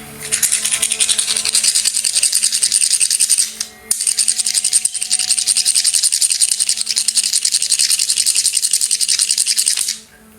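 Crystals rubbed together, a loud continuous scraping rasp held steadily for about three seconds, breaking off briefly, then resuming for another six seconds before stopping.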